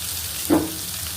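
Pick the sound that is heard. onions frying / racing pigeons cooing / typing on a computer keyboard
onions frying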